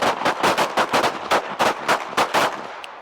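Pistol gunshots fired in quick bursts during a red dot shooting drill at an outdoor range, a dozen or so sharp, loud cracks in uneven rapid groups, no talk over them.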